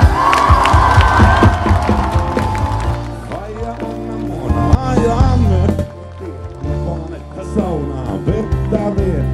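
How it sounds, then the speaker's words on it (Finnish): A concert crowd at a show at the Jakobs dagar festival in 2013 cheers and whoops loudly, with raised voices and shouting rising and falling amid the noise. "Raikuvat aplodit!"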